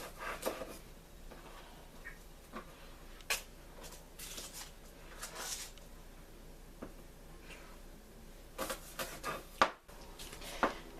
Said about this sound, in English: I'm going to cut that, and then I'm going to cut off the outer peel